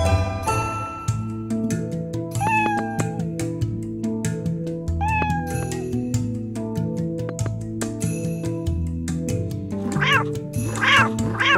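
Cartoonish cat meows from the video game Balthazar's Dream ring out repeatedly over bouncy game music, with several rising meows in close succession near the end.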